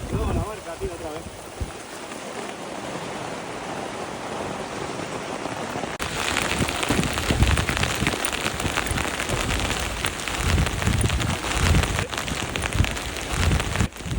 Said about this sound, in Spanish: ¿Llueve o qué?